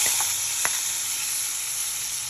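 Vegetables sizzle in a hot frying pan, a close, steady hiss of frying with one or two brief crackles near the start and no talking.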